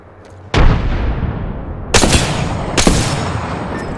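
A frag grenade goes off in the video game Apex Legends. Three sharp, loud blasts land close together, the first a heavy boom and two more bursts about a second apart, each leaving a short rumbling tail.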